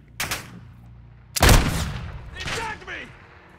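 Magnum pistol fire in the video game Warzone 2: a few loud, punchy shots spaced apart, with a heavy blast in the middle and lighter cracks after it, close and dominant in the mix.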